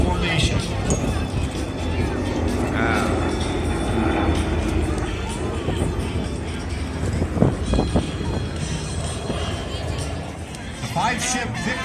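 Aircraft engine roar from a five-ship Vic formation flying toward the show line at a military air base air show, a steady loud drone over crowd babble, with scattered voices and a louder pass near the end.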